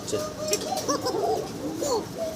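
Pigeons cooing at a pigeon seller's place, several soft rolling coos close by in a short sequence over faint background murmur.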